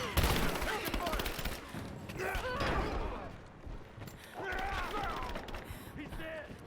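Gunfire in a Rise of the Tomb Raider combat scene, rapid volleys of shots in bursts, fairly faint and mixed with shouting voices.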